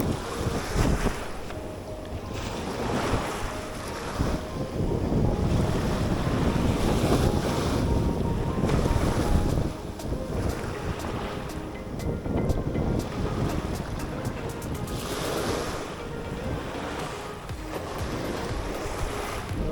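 Strong wind buffets the microphone aboard a small fishing boat at sea, with rushing gusts and surf washing against the hull in loud, surging waves throughout.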